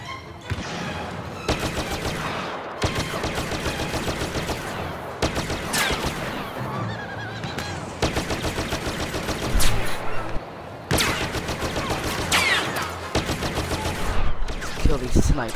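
Rapid gunfire in Star Wars Battlefront's Endor survival mode, with bursts of shots, blaster fire and explosions that come and go in loud clusters, while a voice speaks over part of the battle.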